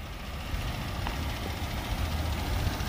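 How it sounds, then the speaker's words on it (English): A 2005 Ford Explorer Sport Trac with a 4.0 liter V6 idles steadily with a low, continuous rumble, close and even throughout, with no talk over it. "Engine sounds good."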